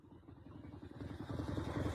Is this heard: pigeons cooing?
no